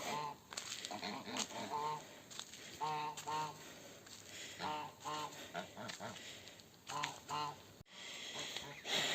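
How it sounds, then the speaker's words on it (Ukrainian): Several geese honk repeatedly in clustered, overlapping calls, moderately close, with a faint voice briefly underneath. "Тут старі гуси вже чухають додому"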